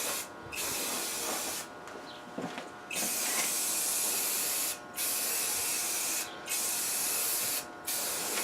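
Spray paint can laying a second coat on a Ford F-150 fuel tank, long loud hissing bursts broken by several short pauses, close and without talk.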